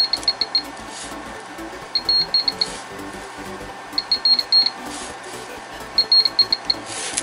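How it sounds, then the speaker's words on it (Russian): A budget pinpointer metal detector signalling on a gold chain gives short bursts of rapid high-pitched beeps, four groups spaced about two seconds apart over a low background hiss, no talking. "Как видите, золотая цепочка практически вплотную должна, чтобы она подавала сигнал."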